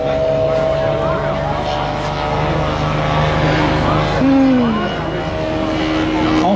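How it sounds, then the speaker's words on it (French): A demonstration airplane makes a slow, low pass at an airshow, its steady engine drone holding loud and close throughout while a commentator talks over it. "Magnifique passage de notre ami Pagès, là en basse vitesse."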